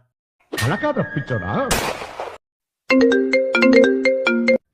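After a burst of voices and loud effects, a phone ringtone plays a bright, repeating electronic melody for a couple of seconds.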